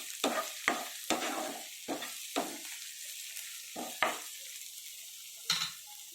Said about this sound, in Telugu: ఇప్పుడు ఉల్లిపాయ ఫ్రై అయిపోయినాయి. ఇప్పుడు కొంచెం పసుపు, కారం వేసుకున్నాము.